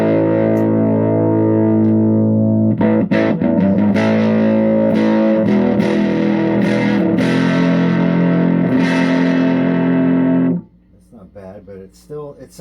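Electric guitar played through a Dark Lord amp with heavily scooped mids, giving a distorted, effects-laden and slightly hollow tone; sustained loud chords and strummed hits ring for about ten seconds before cutting to quiet.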